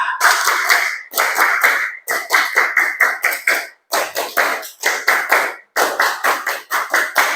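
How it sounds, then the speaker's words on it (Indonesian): A group of students performs the Indonesian scout clap twice, crisp loud rhythmic clapping in quick patterned bursts separated by short pauses, with no talking. "2 kali tepuk pramuka."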